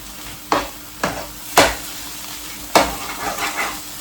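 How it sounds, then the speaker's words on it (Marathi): Chana dal filling for puranpoli is stirred and sautéed in a nonstick pan, with several distinct scraping spatula strokes over a steady sizzle, close up and with no talk. "तर आता आपण पुरण हे छान परतून घेऊ."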